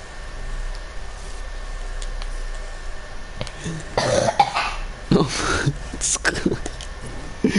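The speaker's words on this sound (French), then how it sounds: "Oui, moi j'ai une toux" A person coughs several times in quick bursts, close and fairly loud over a steady background hiss, partway through a French-language live stream.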